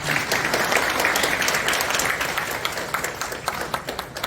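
Warm applause from a sizable crowd at a prayer breakfast service in a National Assembly meeting room, sustained for several seconds before thinning into scattered claps.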